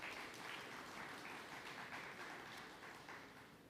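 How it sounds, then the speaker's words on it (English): Audience applause at an Indigenous cleaner energy forum, a steady, dense clapping wash held at fairly low level from a distance, slowly tapering off toward the end, with no speech. "Another big round of applause."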